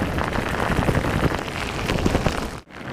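Steady rain falling outdoors, a dense, continuous hiss of drops pattering on surfaces, fairly loud and close, with a brief dip near the end.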